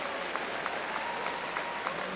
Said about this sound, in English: Please give all our graduates another round of applause.